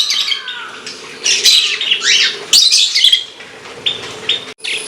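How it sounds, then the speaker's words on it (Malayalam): Two pet lovebirds eating from a hand chirp and squawk close up, with sharp, bright tweets in quick bursts and brief pauses between calls. "അപ്പോൾ നമ്മൾ ലവ് ബേർഡ്സ് 2 ആൾ എൻ്റെ കയ്യിൽ വന്നിട്ട് കഴിക്കുന്നുണ്ട്"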